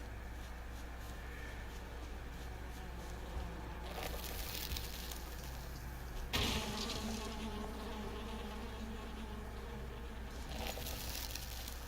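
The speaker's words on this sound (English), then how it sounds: "More bees." Bees buzz continuously in Valheim, a steady insect drone that swells louder a few times as they pass close, with no talking.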